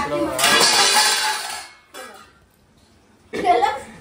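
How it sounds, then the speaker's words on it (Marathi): A plate of tomatoes falls in a home kitchen and hits the floor with a loud, clattering crash that rings for about a second. Two shorter, fainter knocks or voice-like bursts follow after a brief pause. "टमाट्याची प्लेट तिने पाडली डोक्यावरती"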